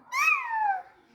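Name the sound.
imitated cat meow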